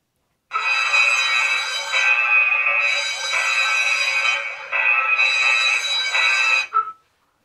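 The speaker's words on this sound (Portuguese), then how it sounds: "E aqui tem um alarme, se você quiser ligar uma sirene" A loud electronic alarm siren from a home IP security camera wails for several seconds in rising and falling cycles, then cuts off abruptly.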